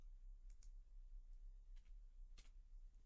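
A computer mouse with a clicking fault gives several sharp, faint clicks at irregular intervals over quiet background hum.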